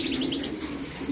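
Pigeons inside a coop give close, bright repeated chirps and tweets over a steady low background murmur, with no one talking.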